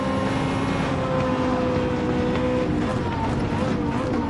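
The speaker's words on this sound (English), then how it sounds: "Oh yes, more points for sound. Sounds raspy. Oh, sounds dirty. It's a dirty engine." A raspy, dirty-sounding race car engine in Gran Turismo 7 drones on at steady revs, a continuous gritty buzz with a faint voice underneath.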